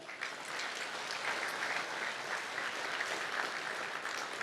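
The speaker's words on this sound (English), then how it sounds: "Please, big round of applause for them." Steady applause from a gala audience honoring law enforcement officers and their families at the Los Angeles Police Museum, a continuous wash of many hands clapping, moderately distant and even, with no voices on top.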